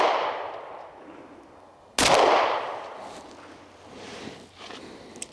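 An HK VP9A1K pistol fires a loud, sharp shot at an outdoor range, its report echoing and fading, with a first shot just before and fainter shuffling and clicks afterward.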